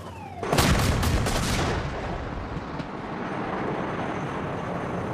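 A Mark 110 naval gun fires live rounds in a rapid burst of several loud, close booms, followed by a long rumbling roar that slowly fades into a sustained background wash.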